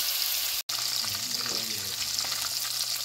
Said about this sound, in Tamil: இந்த சிக்கனை ரெண்டாக பிரித்து பொரிப்போம்.